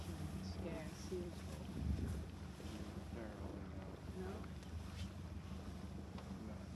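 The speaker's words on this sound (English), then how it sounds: "Sound of the engine scares you." A boat engine runs steadily near Svalbard, a low continuous throb mixed with wind buffeting and water noise, close and constant through the whole stretch with faint voices in the background.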